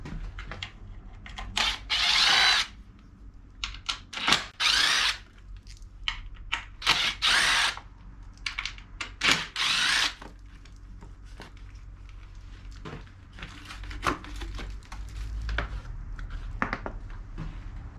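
Power drill backing out the four bolts on the stock skid plate of a Yamaha YFZ 450R sport ATV, heard as repeated loud bursts of whirring that stop and start, later fading into quieter handling noise.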